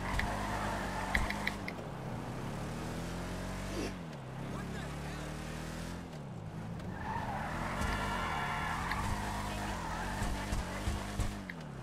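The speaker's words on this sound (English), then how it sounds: "this thing revs a lot." Engine of a new car in GTA, the video game, revving hard with sweeping pitch rises and falls and tire skidding, loud and continuous, with someone talking over it.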